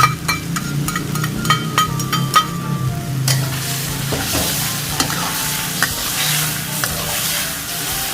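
Eggplant stir-frying with basil in a wok, with loud, rapid metallic spatula clacks and scrapes over a constant sizzle, close up and with no talking.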